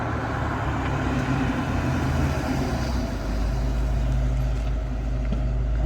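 A 1986 Ford Mustang Fox Body convertible driving, with a steady engine drone and road rumble heard from inside, continuous and fairly close, without any talking.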